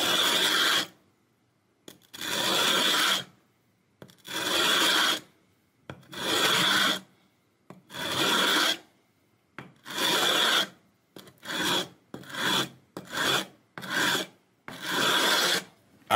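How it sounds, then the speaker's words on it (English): A 220-grit sanding block rubbed along the fret edges of a cheap child's guitar neck, a dry rasping scrape in about a dozen separate strokes, long at first and then shorter and quicker, close and clear with silence between. "I'm going to get rid of these sharp fret edges with this sanding block, but I put a piece of 220 on top of it."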